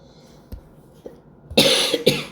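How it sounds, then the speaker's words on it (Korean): Coughs in a quiet room during a math lesson: a few small throat sounds, then two loud, sharp coughs close to the microphone near the end. "기침이 나오니?"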